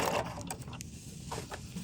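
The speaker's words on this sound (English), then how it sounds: "now I'm stitching just to the side of the foot there as my guide" Sewing machine stitching a jeans hem on flared legs, a short close run of mechanical whirring with quick rhythmic needle clatter and small ticks.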